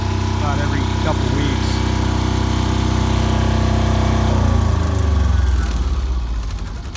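Kubota engine running steadily, then dropping to a lower idle and winding down toward the end; loud and close, with no voices over it.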